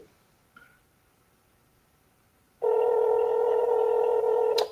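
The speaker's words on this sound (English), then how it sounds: "It's ringing now." Telephone dialing tones followed by a steady, loud ringback tone on an outgoing phone call, with a faint click early on and no talking.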